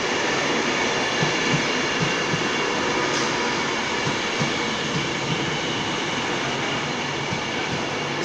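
A British Rail Class 390 electric train at London Euston station gives a steady, loud broadband rumble that runs throughout, with faint rhythmic wheel thumps low down and a brief higher screech near the middle.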